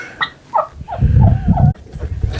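Backyard birds near an old chicken house give a short run of close, loud throaty clucks and gobbling calls, several quick notes in a row.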